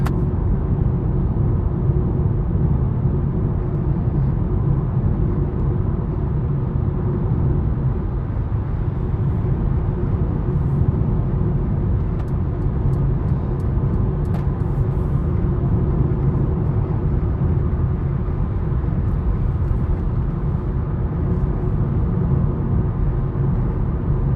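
A 2023 Mercedes-Benz A200 with a 163 hp engine and dual-clutch gearbox drives along, heard from inside as a steady, loud, low engine and road rumble that continues unbroken throughout.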